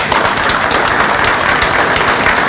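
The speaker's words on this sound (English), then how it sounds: "Well, let's give him a round of applause." An audience at a dinner event gives a round of applause, a loud, dense, continuous clatter of many hands clapping in a room, steady throughout with no talk over it.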